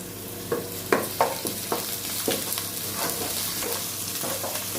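Ginger-garlic paste and onions frying in a pan, a steady soft sizzle with occasional stirring scrapes and clicks, no voices.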